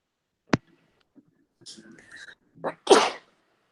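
A single sharp sneeze, followed by brief quiet talk from a couple of voices.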